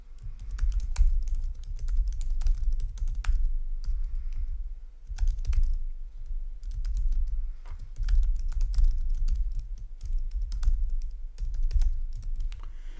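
Fast, uneven typing on a computer keyboard, close and clear, with steady bursts of key clicks and brief pauses throughout.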